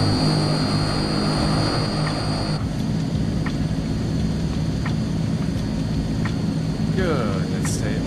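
A propeller aircraft engine hums steadily while taxiing in Microsoft Flight Simulator 2020, a constant loud drone with faint clicks and a short voice fragment near the end.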